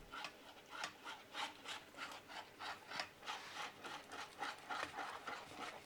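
A spoon stirs thickening rice flour batter in a pot on low heat, making a steady, regular scraping and rubbing of about two strokes per second, close and quiet, with no talking.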